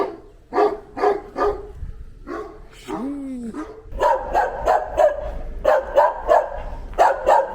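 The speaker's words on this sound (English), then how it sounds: "These dogs are pretty aggressive here." Several sharp, aggressive dog barks in the Peruvian mountains come in bursts, some close together, with a short whine partway through, over steady outdoor background noise.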